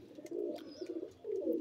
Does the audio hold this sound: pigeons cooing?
yes